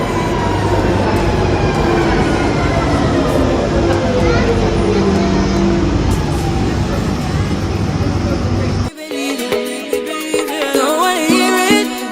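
An overground train in London runs past close by, a loud continuous rumble with rising and falling tonal squeal, then cuts abruptly to a different, quieter setting about nine seconds in.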